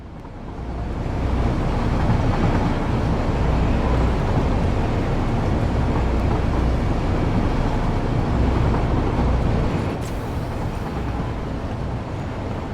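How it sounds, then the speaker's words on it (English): Train rolling along rail tracks in the video game Satisfactory, a steady loud rumble with low mechanical drone that builds in within the first second and holds continuously, easing slightly near the end. "he's got a train on the other side, too."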